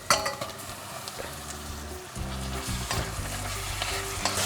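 Salt cod dropped into a pan of softened, wilted onions, with a steady frying sizzle and scraping stir strokes that swell louder after the fish goes in, no talking.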